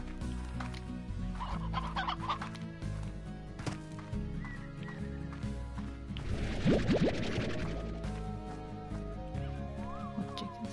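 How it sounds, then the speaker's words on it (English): Chickens cluck, with a neighing horse and clip-clop hooves mixed in, all over a steady musical background. "Oh, chickens."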